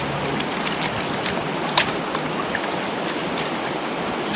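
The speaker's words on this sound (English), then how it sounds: "I'm gonna rinse my knife and my plate in the river" Steady broadband rush of river water flowing at a creek campsite, constant and fairly close, with a faint clink or splash partway through and no voices.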